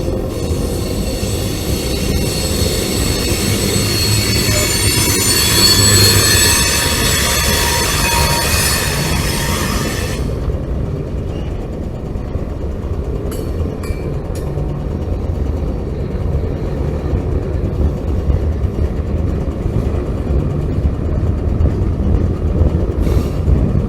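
A long CSX freight train picks up speed as it rumbles past at close range, wheels squealing loudly at first, then giving way to a heavy, continuous rolling roar with occasional clanks.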